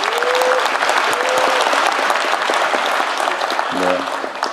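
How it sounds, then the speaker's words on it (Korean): Audience applause fills a Jeonbuk town hall meeting, loud and steady throughout as lawmakers are called forward, with a brief low tonal sound near the end. "여러분 박수 크게 부탁드립니다."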